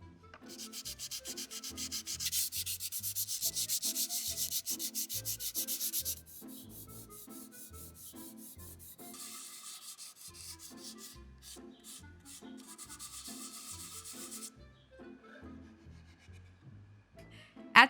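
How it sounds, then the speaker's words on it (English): Sandpaper rubbing over dried putty on small wooden dollhouse pieces in a craft setting, giving steady close scratchy strokes in repeated rhythmic bursts, louder at first and then softer, with no talking. "Once the putty dried, I sanded,"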